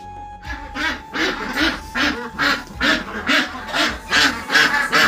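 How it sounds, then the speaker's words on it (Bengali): Ducks quacking close by in a rapid, steady series of loud nasal calls at a farm house, the quacks repeating about twice a second for several seconds. "হাঁস কোথায়?"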